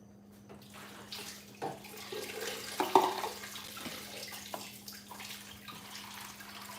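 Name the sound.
tap water running to refill a ball python's water dish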